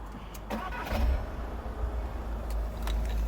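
A Volkswagen Transporter T6 2.0 TDI van's diesel engine cranks and catches, then settles into a close, rumbling idle, with no one talking.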